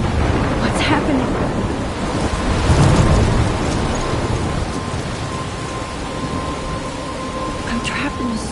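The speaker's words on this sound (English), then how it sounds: "I'm trapped in a storm?" A storm in the video game Life is Strange, with heavy rain hissing steadily and a deep rolling thunder rumble swelling near the middle, fairly loud and up close.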